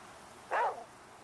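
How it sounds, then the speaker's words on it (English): A single short dog bark, faint and somewhat distant, sounds once in The Flame in the Flood survival game against a quiet background. "What are you barking at, dog?"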